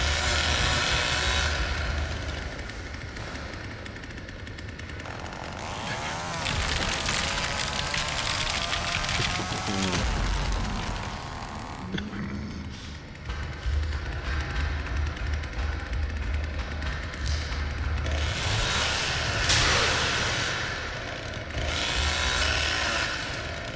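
Chainsaw revving in The Texas Chain Saw Massacre game, a loud mechanical engine drone that surges and idles over about 24 seconds amid other game noise, with no talk.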